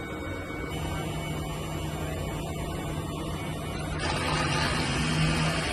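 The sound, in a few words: DTF printer head cleaning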